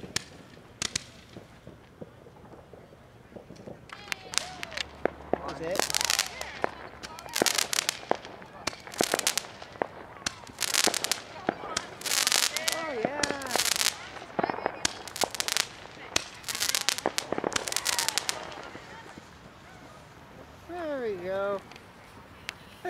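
Victoria Day fireworks at Lawrence Park East burst in a rapid irregular series of sharp booms and crackles, some with rising whistles, while onlookers chatter and call out nearby.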